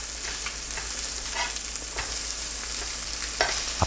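Paprika halves stuffed with seaweed and egg batter fry in a pan over medium-low heat, giving a continuous soft sizzle with a few sharper crackles and pops near the end, and no talking.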